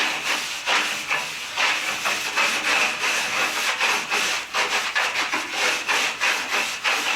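A brush scrubs barnacles on a pontoon in quick repeated strokes, each a raspy, hissing scrape, rhythmic and close, with no speech.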